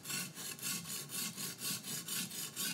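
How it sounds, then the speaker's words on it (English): A knife blade rubbing back and forth across a sharpening stone in steady, even strokes, close and fairly loud, about ten passes with a scraping hiss on each stroke and no talking. "Once I feel that the knife edge is on the stone where my fingers are,"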